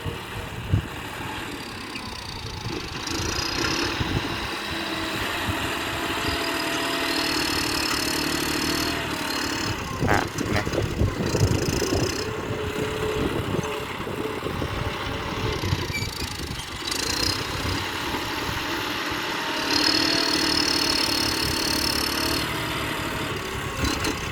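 A tractor's diesel engine runs steadily throughout, a low rumbling drone with occasional revving and clanks, close by and fairly loud.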